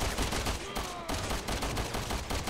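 Gunfire in Resident Evil 6 sounds as a dense, continuous crackle of shots aimed at a tank during a chaotic battle. The shots are loud and close with heavy low rumble and a brief swell around the middle, and no talk is heard.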